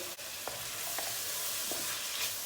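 Tomatoes tossed into a hot pan of sizzling peppers for a meat and chickpea stew, giving a steady frying hiss with a few soft stirring scrapes and light knocks, close and alone without speech.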